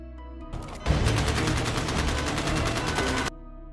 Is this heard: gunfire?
yes